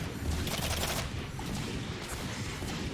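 Turret gunfire in the video game The Cycle rattles out as a quiet, continuous burst of rapid shots over a low, busy game soundscape.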